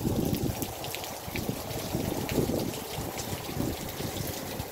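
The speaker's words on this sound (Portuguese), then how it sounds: "Muita chuva aqui agora nesse momento aqui." Heavy rain pours down on a rural settlement in Itaíba, Pernambuco, a dense, continuous hiss of drops with water running nearby, loud and unbroken throughout.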